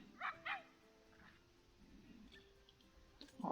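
A timber wolf pup in the Planet Zoo video game gives two quick high yips close together, followed by faint clicks and soft whimpering over a quiet ambient background, with another short yip at the end.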